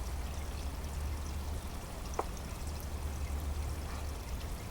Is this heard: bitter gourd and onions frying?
no